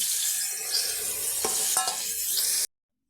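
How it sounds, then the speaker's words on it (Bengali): Soybean chunks frying in mustard oil with salt and turmeric give a continuous close sizzle, with a couple of sharp spatula scrapes against the pan before it cuts off abruptly. "সর্ষের তেলে একটু নুন আর হলুদ দিয়েছি দিয়ে সয়াবিনগুলো একটু ভেজে নেব"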